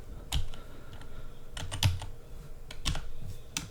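Close-up computer keyboard typing, a quick irregular run of crisp key clicks with a few louder taps, no talking.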